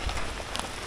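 Rain falls on covered excavation ruins of ancient walls, a faint, steady patter with no voices.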